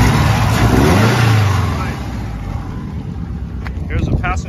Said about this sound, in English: Let's step on the gas if you could let them hear it